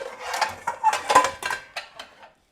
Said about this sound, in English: I'm trying to think of what pan I want to use for this risotto.